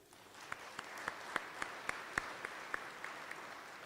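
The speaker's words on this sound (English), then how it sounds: "Give yourselves another round of applause." Sparse, distant applause at an apprenticeship graduation ceremony: a handful of separate claps ring out at roughly regular intervals over a quiet room, faint overall.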